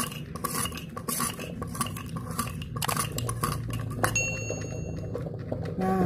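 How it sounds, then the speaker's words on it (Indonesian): A spoon stirs a temulawak health drink in a glass, clinking steadily against the sides in quick repeated taps with faint liquid swirl, close and fairly loud, ending in a couple of bright ringing dings. "Biarkan dulu, ini diaduk-aduk."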